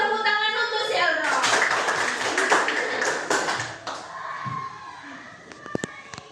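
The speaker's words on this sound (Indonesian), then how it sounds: "Tepuk tangan untuk si Eldro." Classroom applause: a burst of many hands clapping together, fairly close and loud, fading out over several seconds, followed by a few scattered taps and faint voices.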